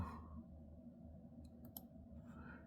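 A few quiet computer mouse clicks, two sharp ticks close together and another soon after, over a low steady background hum.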